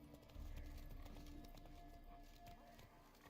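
Hooves of Roach, the horse in The Witcher 3 video game, clop in a steady rhythm over a continuous dense bed of game ambience, holding at a moderate level throughout.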